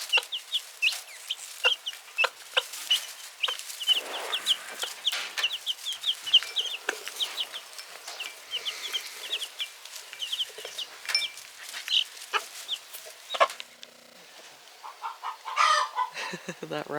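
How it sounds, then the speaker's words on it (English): Hens at a backyard coop cluck loudly and insistently while laying eggs, a busy stream of sharp repeated squawks and cackles, with a rooster-like crow and a brief lull before the racket resumes. "That racket is what they do when they're laying an egg."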